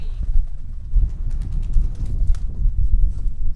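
Pigeons cooing beside a road on a long drive north, faint against a constant low rumble of traffic and wind, with no talking over them.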